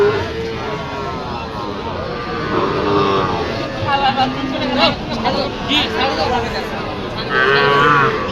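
Cattle, including Sahiwal bulls, lowing repeatedly amid a busy crowd at Raniganj cattle market in Dinajpur, Bangladesh, with voices chattering and calling all around at close range.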